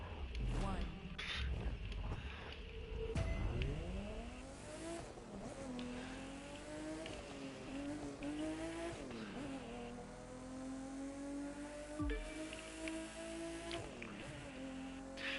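A race car in The Crew 2 video game revs and shifts through rising gears with squealing tires, its engine pitch climbing and dropping repeatedly, with people talking over it.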